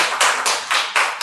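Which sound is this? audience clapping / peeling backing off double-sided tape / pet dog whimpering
audience clapping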